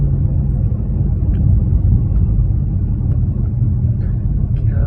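A Maruti Swift car drives through the narrow lanes of Haridwar near the Ghanta Ghar, heard from inside as a steady, loud, low road rumble with faint scattered background noises.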